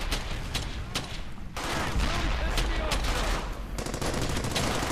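Dense gunfire from the WWII shooter Brothers In Arms: Hell's Highway, rapid overlapping machine-gun bursts and shots crackling loudly and continuously, with a voice briefly heard over the battle.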